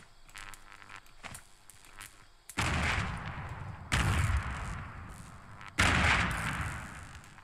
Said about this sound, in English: Were those my grenades? That sounded like they blew up right here.